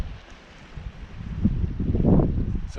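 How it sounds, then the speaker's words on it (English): Strong wind blows across a beach on Guernsey at night during a fishing session, a close, buffeting roar that rises and gusts louder toward the end. "It's a lovely night, apart from the wind. It's really windy."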